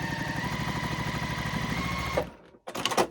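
A sewing machine chain piecing quilt squares runs in a steady, fast mechanical whir with a rapid needle rhythm, stopping abruptly and then giving a short burst of rustling fabric handling.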